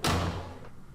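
A secret door in a pixel horror game about a house opens with a single heavy thud and a low rumbling scrape that fades within a second, close and loud, with no talking.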